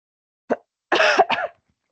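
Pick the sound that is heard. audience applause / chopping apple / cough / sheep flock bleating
cough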